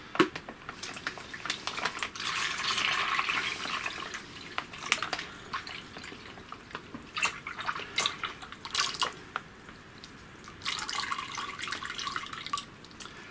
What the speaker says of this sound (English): Pour that into your sanitised fermenter.